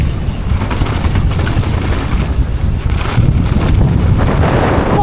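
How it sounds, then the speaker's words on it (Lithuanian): Strong wind batters the microphone of a rider at a race, making a loud, continuous rumbling roar with gusty buffeting that never lets up, close and with no speech. "O, dieve, tu mano, koks vėjas!"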